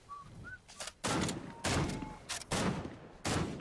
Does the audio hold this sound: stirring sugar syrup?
no